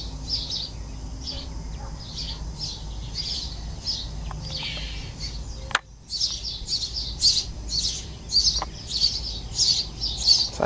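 Baby sparrows cheep in rapid, repeated high chirps close by from a nest, with one sharp thud partway through.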